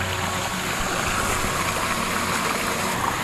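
Water pours steadily out of a pipe near McCarthy, Alaska, a continuous close, splashing rush that holds level throughout.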